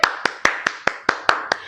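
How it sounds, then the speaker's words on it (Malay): Hand clapping in a primary maths class, eight crisp, evenly spaced claps in a quick steady rhythm, close and clear with little else around them. "Tepuk tangan sikit."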